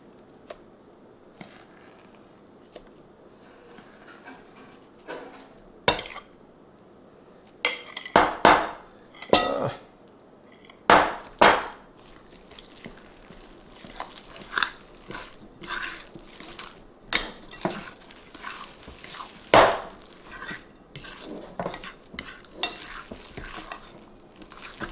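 Keto cheddar biscuit batter mixed in a bowl: irregular scraping and stirring with sharp utensil clinks against the bowl, getting busier and louder partway through, with no talking.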